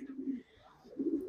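A pigeon coos softly in two low, throaty phrases separated by a brief pause, close by and alone.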